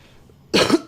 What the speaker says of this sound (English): I'm sorry sometimes if I will try my best not to cough too much, but I've been coughing quite a lot.